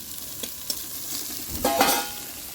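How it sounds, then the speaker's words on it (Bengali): Sliced onions frying lightly in a little oil in a home kitchen, a soft close sizzle broken by a few stirring scrapes and clinks of a spatula against the pan. "এবার আমরা পেঁয়াজটাকে হালকা হালকা করে ভেজে নেব"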